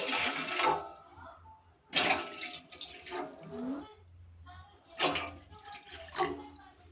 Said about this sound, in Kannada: ಆ ಪಾತ್ರೆಗೆ ನಾನು ಇಲ್ಲಿ 3 ಲೋಟ ಆಗೋಷ್ಟು ನಾನು ನೀರನ್ನು ಹಾಕ್ಕೊಳ್ತಾ ಇದ್ದೀನಿ